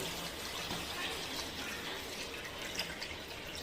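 Water is poured over a batch of wild karande tubers from the hills as they are washed in a pot: a steady, moderately quiet rush of liquid running throughout.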